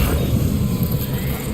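A vehicle rumbles and grinds over rocky ground in the game Death Stranding 2, a steady, loud low engine-and-terrain rumble with faint rattling, continuous throughout.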